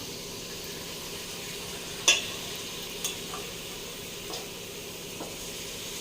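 Chicken hits frying onions in a pan, with a steady low sizzle under a sharp clatter as the pieces drop in, then a few softer knocks of stirring spaced over several seconds, quiet and close with no talking.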